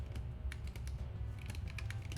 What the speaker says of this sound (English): this results in me typing backwards